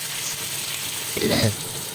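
Liver for pancit sautéing in a hot pan gives a soft, steady sizzle, with a brief louder burst of frying and stirring midway.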